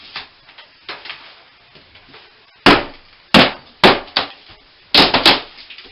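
A hammer strikes a wall during demolition, about seven sharp, loud cracking thuds in an irregular series, with lighter knocks and scraping between blows, up close and without speech.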